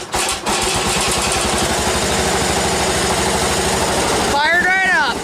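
A John Deere 317 tractor engine on a cold start, cranking briefly then firing and settling into a loud, steady, chugging idle close to the mic, with a rising whine near the end.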